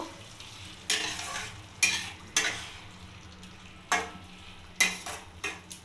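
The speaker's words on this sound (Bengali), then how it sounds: "আর দিয়ে দিলাম ঘি এবার ভালো নাড়িয়ে নেব" Onion and pointed gourd frying with ghee are stirred in a pan. Bursts of scraping and sizzle come at irregular intervals, close by and fairly loud, with faint clinks of the utensil against the pan and no voices.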